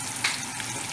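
Red chili and ginger hitting hot oil with garlic for pav bhaji, a brief loud sizzle with a sharp burst of spitting near the start.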